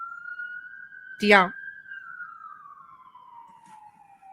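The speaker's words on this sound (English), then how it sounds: "What is that noise in the background? Is that police or fire engine or what?" An emergency vehicle siren on a New York City street wails in one long, slowly falling tone, steady and distant behind a brief spoken word.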